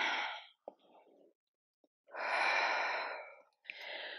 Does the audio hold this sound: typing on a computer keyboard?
no